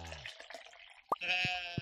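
A sheep in the farming game Stardew Valley lets out a short bleat, clear and close, amid soft game effects and chimes.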